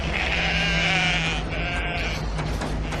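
Sheep bleat loudly and close by on open moorland at night, one long wavering cry followed by a second shorter bleat, with a steady low hum beneath.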